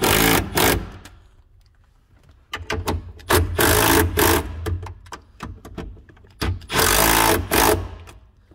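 A power tool buzzes in repeated short bursts as it tightens 10 mm bolts on the rear hatch of a Chrysler Conquest, close and loud, with quiet pauses between runs.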